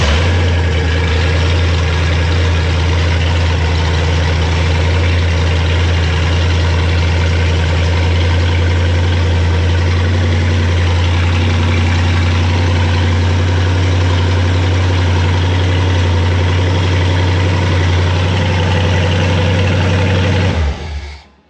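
A Mercruiser 7.4 marine engine, freshly back from a valve repair with its carburetor slightly out of adjustment, runs at a loud, steady, rumbling idle close by before cutting off abruptly at the end.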